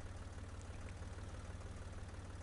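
A tractor engine in the farming game Professional Farmer 2014 idles with a steady, low, even chugging rumble, faint and unchanging throughout.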